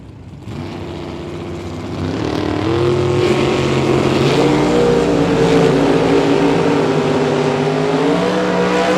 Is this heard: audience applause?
no